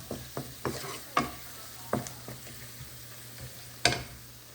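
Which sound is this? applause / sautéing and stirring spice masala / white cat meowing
sautéing and stirring spice masala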